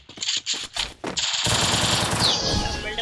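Thompson submachine guns fire in the Free Fire video game. Short bursts come first, then a near, loud stretch of continuous rapid fire.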